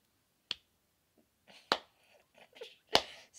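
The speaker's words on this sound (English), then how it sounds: "Slow clap." Sharp hand claps spaced widely apart in a slow, deliberate rhythm, heard during basketball video game play, with a few faint murmurs between the claps.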